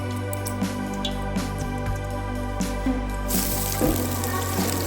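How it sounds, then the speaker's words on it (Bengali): Vegetables frying in white oil and a spoonful of ghee in a kadai over a flame for fried rice, with a steady low hum and a sizzle that grows louder and brighter toward the end. "এখন এই সমস্ত সবজিগুলোকে ভাজার জন্য ফ্লেমের উপরে আমি একটা কড়াই বসালাম।"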